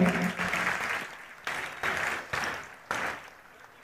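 Audience applause at the closing ceremony of a world Marathi conference in Satara: dense, close clapping that comes in several renewed bursts, each surging loudly and then tapering off.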